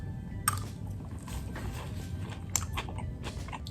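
Someone bites into and chews a crunchy toasted rice praline chocolate from Louis Vuitton, with a couple of sharp crunches and softer chewing up close.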